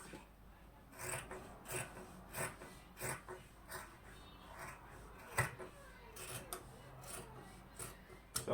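A marker or pen rasps along denim jeans against a ruler, drawing a straight hem line in short repeated strokes, close and quiet.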